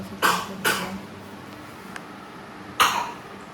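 A sick child coughing indoors at night, three short harsh coughs, two in quick succession and one more after a pause, fairly close.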